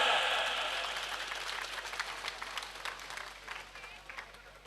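A crowd claps at a cow shelter donation gathering on Raksha Bandhan night: loud applause at first that steadily thins out and fades, with voices talking over the tail end.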